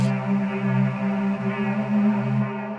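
A soft, sustained Serum 2 synth pad hums steadily with a warm, slightly wavering low tone and faint airy upper layer, gentle and unbroken for a few seconds.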